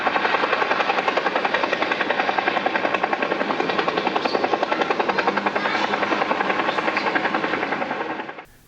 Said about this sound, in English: The sound of a Huey could be heard for miles